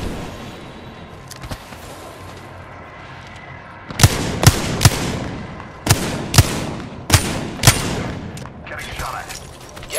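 Gunfire in the Apex Legends battle royale video game: a series of sharp, loud shots in irregular bursts, starting about four seconds in, over a steady background hum.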